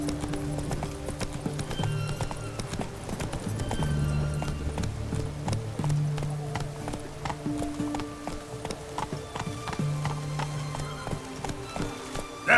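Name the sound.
horse Roach galloping, clip-clop hooves, from video game The Witcher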